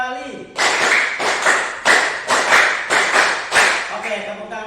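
Students in a classroom clap a rhythmic group pattern twice through, about nine loud, evenly spaced ensemble claps, with brief voices at the start and end.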